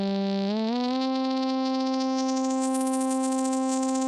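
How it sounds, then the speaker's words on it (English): A sampled Moog sawtooth passes through Omnisphere's Waveshaper distortion, a sustained synth tone gliding up in pitch before settling and then brightening as dense upper harmonics build, played alone and loud. "Now when we turn on the Waveshaper, we'll hear lots of harmonics generated."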